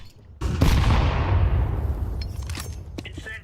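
A grenade goes off in a tactical shooter game, a sudden loud booming blast that rolls into a long, decaying rumble, with faint clicks and movement sounds trailing after it.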